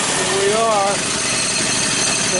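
A car engine is given a little gas while in reverse, a steady loud engine drone throughout, with a person's voice briefly over it.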